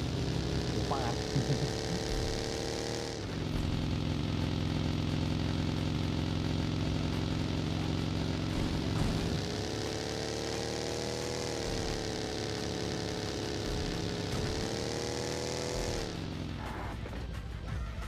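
A car engine in PUBG Mobile drones steadily as the vehicle drives, its pitch shifting a few times, while players talk over it throughout.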